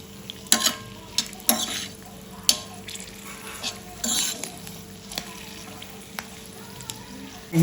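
Red chili and garlic chutney sautéing in a pan, mixed in with gunda sambharo: a steady low sizzle under repeated scrapes and stirring knocks, with a few sharper clinks of a utensil against the pan.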